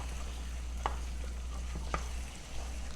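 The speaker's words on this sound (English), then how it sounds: "And I'm going to give this a little stir." Chicken pot pie filling is stirred in a pan over medium heat: a quiet, steady sizzle with two or three soft scraping strokes of the spoon, close by and without speech.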